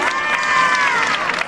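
A crowd at a queen's coronation ceremony cheers and applauds loudly. Sustained shouts and high-pitched children's cries ride over dense clapping, close and continuous.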